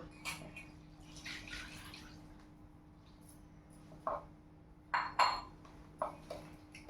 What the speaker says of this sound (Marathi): आता याच्यामध्ये हे आपलं अर्धा वाटी दूध ओतायचं